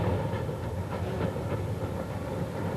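A heritage railway train at Bewdley produces a continuous low rumble with faint clickety-clack on the rails, steady and moderately loud throughout with no voices.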